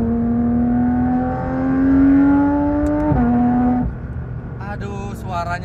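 A Porsche 911 GT3 RS engine revs high with a bright, brassy, trumpet-like wail, climbing steadily, then dropping sharply on a shift before lighter mechanical sounds follow; a voice is faintly present beneath.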